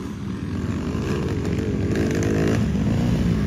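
A Yamaha YZ250F dirt bike engine is ridden nearby, blaring a loud, buzzy four-stroke drone that holds steady and climbs slightly in revs toward the end.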